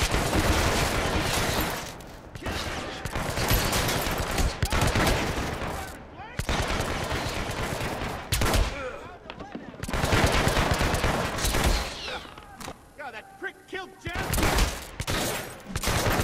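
Bursts of automatic gunfire and single shots in Hitman: Absolution, loud and close, clustered in rapid volleys with short gaps between them, with a voice speaking briefly between the shooting.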